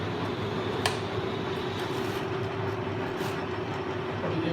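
A Sheldon lathe spindle runs at reduced speed, producing a steady, smooth mechanical hum and whir with an even tone and a single faint click, close and continuous with no talk.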